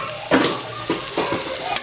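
Food sizzling in a pan while being stirred, a close steady fry broken by several sharp scraping stirs.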